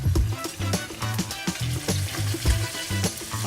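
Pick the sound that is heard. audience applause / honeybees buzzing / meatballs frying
meatballs frying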